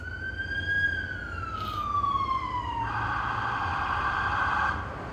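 A police siren wails steadily, first as a slowly falling tone and then shifting into a harsher, faster pattern, loud and continuous with no talking over it.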